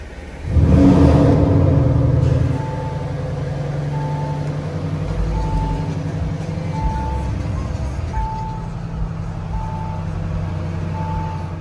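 An Audi car's engine fires up with a loud roar, then settles into a steady running rumble as it pulls away, while a regular electronic beep repeats in the background.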